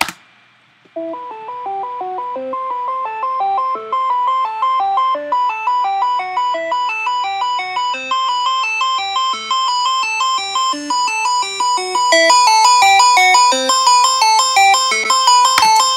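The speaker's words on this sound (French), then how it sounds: "on voit que le synthé d'un seul coup prend nettement plus de pêche" Bright layered synth lead in an electronic dance style, made in Logic Pro, plays a fast, repeating arpeggiated pattern, steady and loud, thickening toward the end, with no talking.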